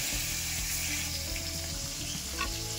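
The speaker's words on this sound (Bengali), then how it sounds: "এখন মাছগুলো আমি ভেজে নেব।" Koi fish frying in hot oil for a Bengali tel koi curry, a dense, steady sizzle with crackling spatters running throughout, close and alone with no talk.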